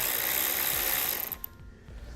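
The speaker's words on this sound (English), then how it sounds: "we're going to need to grab a 13mm socket and remove the nut" A ratchet wrench with a 13mm socket loosening the battery terminal nut on a 2018 Jeep Wrangler JL, a quick run of close clicking that stops partway through, leaving quieter mechanical handling.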